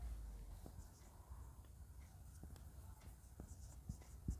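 Chalk or marker taps and scratches on a classroom board during a physics lesson on lenses, quiet intermittent strokes close by, with faint low speech in the background.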